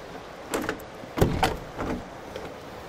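A WELOCK Touch41 smart door lock turns its bolt with a few short motorized whirs and mechanical clicks at close range, separated by brief pauses.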